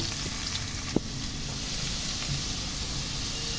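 Onion pieces sizzle in hot oil for a spiced drumstick curry, giving a steady close-up hiss with a single sharp click early on.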